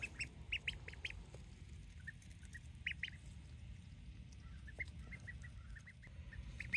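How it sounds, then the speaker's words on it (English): Baby ducklings, a blue runner and a crescent perkin, peep in quick high chirps scattered through the clip over a steady low rumble of background noise, with no one speaking. "So Tony surprised me with the baby ducklings, and here they are."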